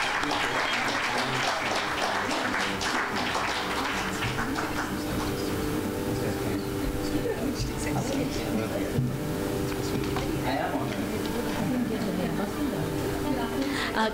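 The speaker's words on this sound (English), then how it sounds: "let's give him a really big hand of applause" Audience applause fills a stage ceremony at an artists' appreciation festival as an award is presented, a steady crowd clapping that runs throughout with voices mixed in.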